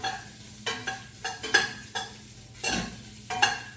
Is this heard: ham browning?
yes